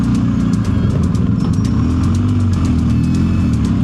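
A motorcycle engine drones loud and close while riding uphill on a mountain road in the Atlas Mountains of Morocco, a steady low rumble with wind buffeting and no talk over it.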